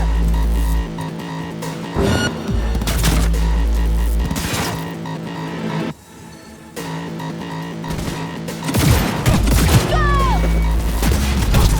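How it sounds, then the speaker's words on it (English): Loud bursts of gunshots and heavy impacts in a combat scene from the video game Cyberpunk 2077, repeated volleys with a brief lull near the middle, over a low steady hum. "Heard shots."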